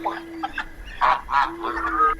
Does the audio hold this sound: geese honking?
yes